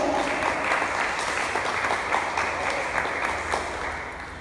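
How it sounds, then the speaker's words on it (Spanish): An audience at a festival talk in Acapulco claps steadily to welcome a guest author, a full, even burst of applause from many hands that eases off slightly at the end. "pues un aplauso para nuestro invitado"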